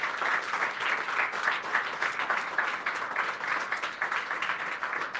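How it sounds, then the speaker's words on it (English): Audience applause for a panel at an investment webinar, a steady wash of many hands clapping, moderately distant and fairly quiet, sustained for several seconds with no talk. "round of applause for the panel"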